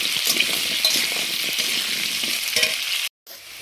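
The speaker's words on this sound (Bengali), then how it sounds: "আলুগুলো ভেজে নিয়ে ফিরে আসছি" Continuous crackling sizzle of salted potatoes frying in a pan for a soybean-potato curry, close and fairly loud, with a few soft stirring scrapes and a brief cut near the end.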